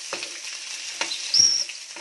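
Shallots and jaggery sauté in a pan with a close, steady sizzle, broken by a few quick scraping stirs of the spoon.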